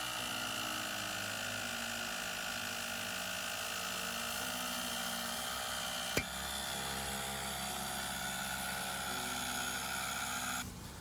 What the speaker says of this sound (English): we will use compressor to blow it and get the cylinder out